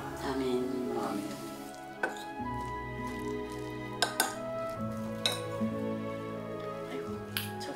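Plates and dishes clatter as food is served at a table. Sharp clinks and knocks come every second or so over a low, busy background hum.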